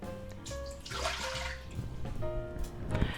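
Water poured into an opened Instant Pot electric pressure cooker, a steady splashing stream close by, rising in a brief louder gush near the end, with no talking.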